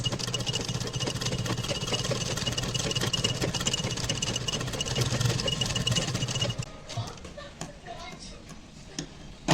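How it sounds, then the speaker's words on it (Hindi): A sewing machine stitches along the edge of a baby girl's frock, its motor whirring steadily and loudly for about six and a half seconds before stopping, leaving faint handling noises. "अब हम सिलाई लगाएंगे, और वो भी यहाँ पर धार पे ही लगाएंगे"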